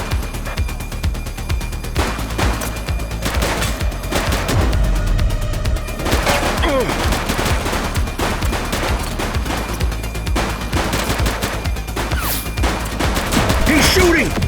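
Sustained bursts of gunfire in the police video game The Precinct, rapid automatic shots and heavy booms crackling densely over a rumbling action soundtrack, loud and close, with shouted voices cutting in.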